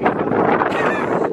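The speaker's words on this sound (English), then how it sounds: "It's wind behind you as well" Wind gusting across an open golf course near a tee, a steady broadband rush of buffeting on the microphone that lasts throughout the short moment without pause.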